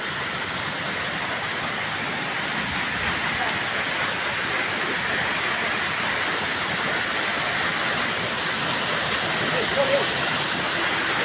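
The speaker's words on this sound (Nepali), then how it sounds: "राम्रो छ झर्ना।" Continuous broadband roar of a waterfall in a green, leafy setting, steady and fairly loud throughout with no break, a dense wash of rushing water.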